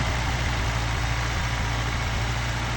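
A homemade tractor built from scratch with a welded frame runs its engine at a steady idle, a close, continuous low rumble with an even throb and no break.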